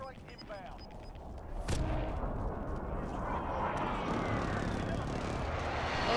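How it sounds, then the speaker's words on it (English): Airstrike explosions and aircraft roaring in a shooter video game, a sharp blast followed by a sustained loud rumble of detonations and engine noise, with a player voice over the top. "Be advised, friendly position airstrike inbound."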